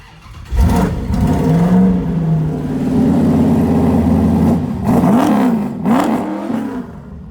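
1968 Plymouth Satellite street/strip car firing up: a sharp crank catch into a loud, deep idle with a couple of blips of the throttle near the end, close and alone.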